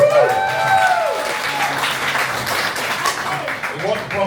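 An audience at a London climate action panel breaks into a burst of applause and cheering, loud and sustained for several seconds, with voices mixed into the clapping.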